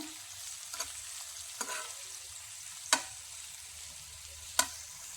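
Chicken pieces frying in oil in a home kitchen, a steady soft sizzle with four sharp scraping clicks as the pieces are flipped over in the pan.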